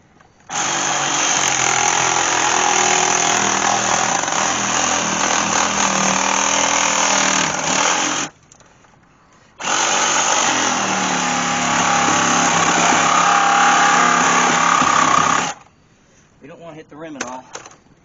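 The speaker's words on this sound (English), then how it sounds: "Now I think I'm just going to finish cutting it with the Sawzall." A Sawzall reciprocating saw cuts through a tractor tire with a loud, harsh buzzing in two long bursts separated by a short pause, then a few scattered quieter noises as the cutting ends.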